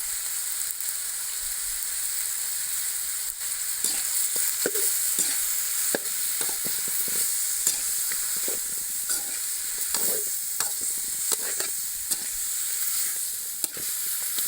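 Chicken masala sizzles and hisses steadily in a hot frying pan while a utensil scrapes and stirs with irregular knocks close by.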